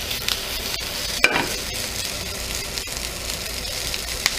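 Hawaii-style fried rice sizzles in a pan, crackling steadily close up while a utensil stirs and presses it, with sharp scraping knocks against the pan every second or so.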